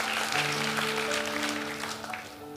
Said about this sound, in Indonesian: Gitu ya, tepuk tangan.